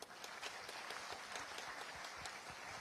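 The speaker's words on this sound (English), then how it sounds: "So let's all have a great round of applause for them." A seated audience at a science and health initiative launch gives a steady round of applause, many hands blending into a continuous, fairly distant, soft patter with no voices above it.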